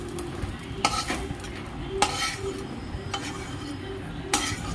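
Cashews frying in oil in a pan for a drumstick curry give a soft, steady sizzle, broken by a few clinking stirs of a spoon against the pan at regular intervals.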